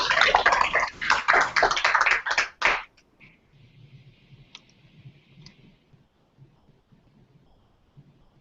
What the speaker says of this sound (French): je pense qu'on lui doit, elle aussi, une bonne main d'applaudissements et des encouragements.